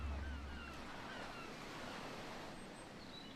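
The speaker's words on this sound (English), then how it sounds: "The Southern Ocean is as rough as hell these days." Rough Southern Ocean waves in the video game Wild Hearts, a faint, steady wash of surf and wind that hisses on without a break, with no talk over it.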